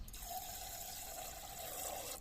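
Water is poured into a separate container of lukewarm water to dilute a garden tank-mix spray against pests and diseases, a steady close splashing pour lasting about two seconds with no talk.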